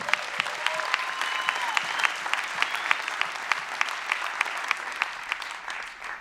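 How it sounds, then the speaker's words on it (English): Sustained audience applause for comedians at a live comedy show tribute, dense clapping from a sizable crowd with occasional sharper claps and faint whoops, steady throughout before tapering slightly at the end. "One more round of applause for all the comedians before me."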